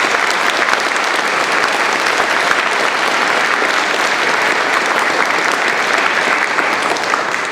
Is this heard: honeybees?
no